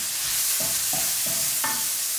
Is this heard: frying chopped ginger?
yes